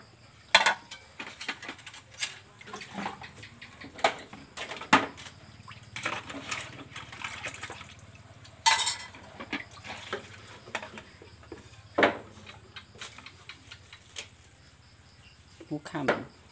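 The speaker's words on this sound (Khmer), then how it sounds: "សាលាងចានទៅ" A little boy washes dishes, with scattered clinks and clatters of plates and cutlery at irregular intervals. Quiet talk runs beneath the sounds.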